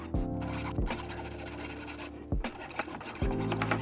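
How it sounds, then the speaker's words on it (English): A file and a rasp scrape back and forth over cut-out scrap wood house numbers. Close, rhythmic rasping strokes, with a few sharper squeaky drags. "Now I'm just going through with a file and a rasp to try and clean it up as best I can."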